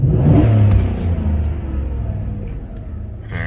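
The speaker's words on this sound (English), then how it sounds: "and just give her wide open." 2012 Chevy Silverado 5.3L V8 with a random misfire and a cylinder 1 misfire, taken to wide open throttle. A loud, close engine roar swells quickly, then eases into a steady lower rumble.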